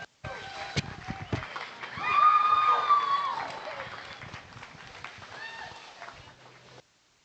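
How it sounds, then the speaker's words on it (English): Audience applause at a junior wether doe livestock show at the National Western Stock Show, honoring champion heavyweight goats; steady clapping swells after a few seconds and holds, with cheering mixed in, then fades out near the end. "give me a big round of applause for these champion heavyweights"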